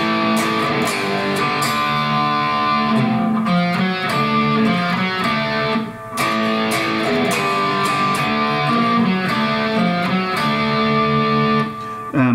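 Distorted electric guitar chords drive the chorus section of a song, dense and loud with a full band-like wash, strumming continuously with brief dips between phrases.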